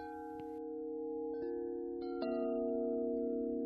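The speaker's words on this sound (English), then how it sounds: "And the epic 78-incher." A 78-inch Wind River Eclipse Collection wind chime rings alone with long, overlapping sustained tones, struck anew several times so fresh metallic strikes layer over the lingering ring and build slightly in loudness.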